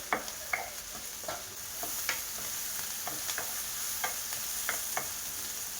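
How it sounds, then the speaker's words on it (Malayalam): Salted onions fry in coconut oil in a pan until soft, a constant close hiss punctuated by regular clicking spatula strokes against the pan, without talking. "ഉള്ളി നല്ലോണം ബാടുന്നവരെ ഇങ്ങനെ ഫ്രൈ ആക്കി എടുക്കുക"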